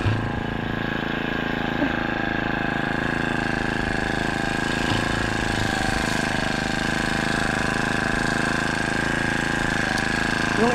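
A grass cutter engine runs steadily and loud throughout while weeding between rows on a farm with string beans, a constant mid-pitched drone with no talking.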